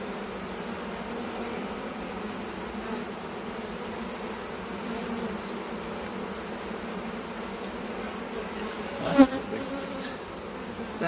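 A dense, steady hum of honey bees swarming around an open hive during an inspection, close and constant, with a brief clunk near the end.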